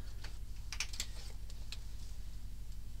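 A stripe of material being cut off, heard as a few soft, sharp snips and clicks over a low steady background hum, close and without talk.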